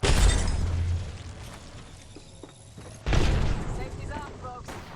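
Gunfire in the Apex Legends battle royale game on Nintendo Switch: bursts of shots and impacts, loud at the start, fading to a quieter stretch, then a sharp renewed volley near the end.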